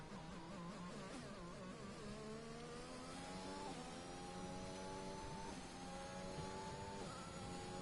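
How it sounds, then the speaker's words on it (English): A race car engine roars on board during a lap of the British circuit in an F1 video game, loud and steady, climbing through repeated rising revs broken by quick gear-change dips, with no talk. "I'm going to keep quiet just so you can hear the roar of the engine."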